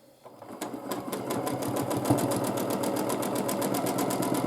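Domestic sewing machine stitching steadily during free motion quilting, with skipped stitches, a fast regular mechanical whirring and clatter that starts after a brief pause and runs continuously, close and fairly loud.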